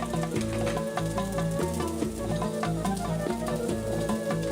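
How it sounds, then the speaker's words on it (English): Pine nuts and slivered almonds sizzling in hot oil on high heat, a steady crackling fry with periodic clicks and scrapes as they are stirred, close up with no talking. "I am going to brown the pine nuts and slivered almond"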